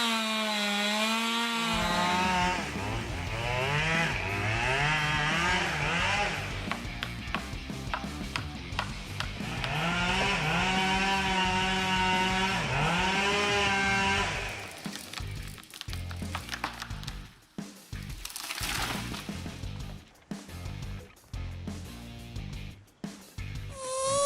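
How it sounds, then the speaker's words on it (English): A chainsaw fells a large chestnut tree over 20 m tall, its engine loud and close with rising and falling revs for about fifteen seconds, then breaking into choppy bursts and cracks of wood. "The chainsaw screeched with such force that it shook my heart."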